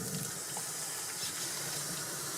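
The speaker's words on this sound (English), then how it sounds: "I'm going to use a paper towel to turn the water on." A tap runs into a wash basin being filled, giving a steady, fairly quiet hiss of flowing water that continues without a break.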